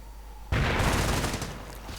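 In a war video game, a sudden loud burst of mortar and .30 caliber machine gun fire erupts after a quiet moment and keeps rattling densely, with booming rounds slowly easing off.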